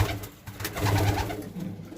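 Domestic pigeons cooing close by, a few low throaty coos rising and falling over about two seconds with no talking.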